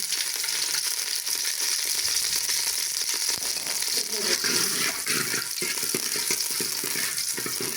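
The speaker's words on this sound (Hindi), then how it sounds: "ये मैंने ऑयल डाला 1 चम्मच, और जो मेथी के बीज थे ना वो मैं डालती हूँ" Fenugreek seeds drop into a spoonful of hot cooking oil for kadhi pakora and set off a loud, steady, crackling sizzle that fills the whole stretch without a break.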